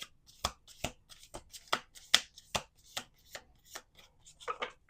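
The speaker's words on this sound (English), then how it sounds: "We're going to do 2 more shuffles." A deck of cards being shuffled by hand, with a steady run of crisp riffle snaps roughly every half second, close and clear, ending in a quicker cluster of flutters.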